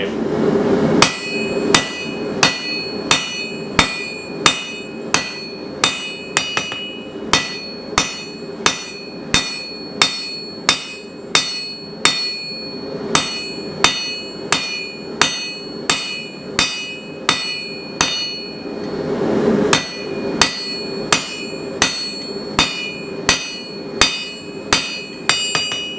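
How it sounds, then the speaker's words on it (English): A hammer strikes hot steel on an anvil while forging a leaf for a hand-forged toilet paper holder, dozens of sharp ringing blows in a steady rhythm with a brief pause midway, close and loud, no speech. "we can get the lump that we're going to forge our leaf out of"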